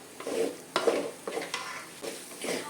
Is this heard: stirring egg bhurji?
yes